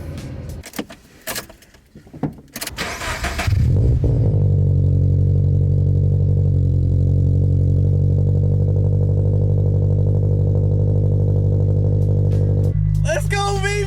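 Keys jangle and clatter, then a Scion FR-S engine cold-starts and settles into a loud, steady high idle that holds near the microphone, with a voice and brief rattles near the end.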